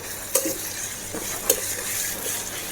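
Curry leaves and green chillies fry in hot oil for a parotta empty salna, giving a steady close sizzle that is broken by two quick taps of a stirring utensil against the pan.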